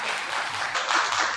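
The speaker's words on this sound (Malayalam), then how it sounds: "ഒന്ന് കൈയടിച്ച് സ്വീകരിച്ചേക്കുക" Audience applause at a monthly workshop meeting, a dense steady wash of clapping filling the whole moment at moderate volume with no voices.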